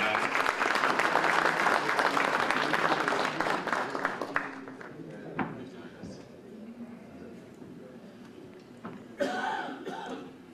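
Loud applause greets a speaker at a Circassian federation general assembly, dense clapping that thins out after a few seconds into scattered claps, coughs and murmurs, with a brief renewed burst near the end.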